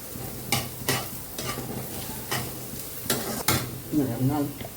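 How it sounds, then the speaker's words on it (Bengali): Lentils being dry-fried in a pan, with soft sizzling broken up by repeated scraping stir strokes of a spoon at an uneven rhythm, close and fairly quiet. "সুজিটা আমি এই ডালটা ভাজা হয়ে গেলে সুজিটাও ভেজে নেব"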